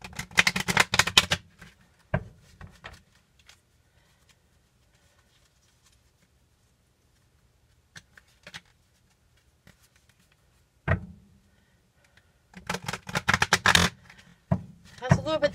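Oracle cards being shuffled by hand, with dense bursts of riffling and flicking at the start and again near the end, separated by quiet handling.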